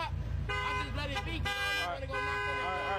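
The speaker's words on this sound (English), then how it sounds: "They're honking at you guys." Car horns honk on a city street, several overlapping toots and a longer blast close by, with people talking over the traffic.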